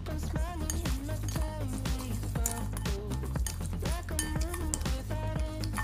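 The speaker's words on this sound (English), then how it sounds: "So next we're gonna mix this together to give us our formulation." Spoon clinking and scraping in a small dish while lip scrub ingredients are stirred together, a steady run of light taps and clinks repeating close up, with no talking.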